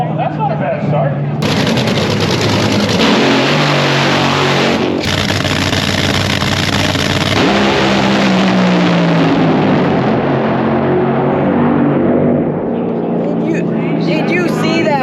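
Drag racing cars roar at close range during NHRA World Finals qualifying, a loud sustained blast of engine noise with sharp bursts and cracks, while people talk excitedly over it.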